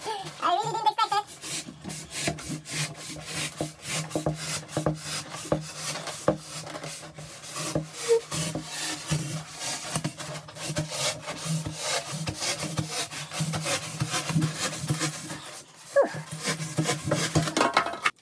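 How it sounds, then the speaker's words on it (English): A wood rasp smooths and shapes the edges of a pump foil board blank in a series of quick, close, scratchy strokes with brief pauses, steady throughout. "To refine the shape, I used a wood rasp to smooth and define the edges."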